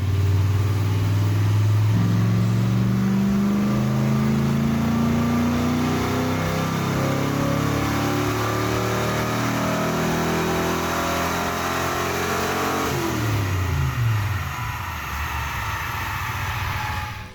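A Ford Ranger pickup truck engine revs steadily upward under load for a long pull on a dyno, a loud continuous roar that climbs in pitch, then drops off near the end.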